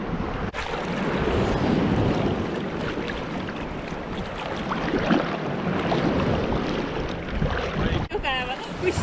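Atlantic Ocean surf at La Gomera washes in a steady, loud roar mixed with gusty wind buffeting the microphone, and brief voices come through near the end.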